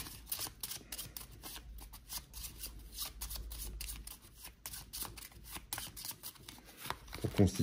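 Playing cards for a hostage-negotiation board game being shuffled and handled up close, a continuous run of rapid papery riffles and flicks.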